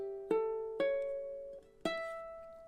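Three slow plucked ukulele strums or chords with sustained ringing tones, played alone and up close as a short phrase of a ballad.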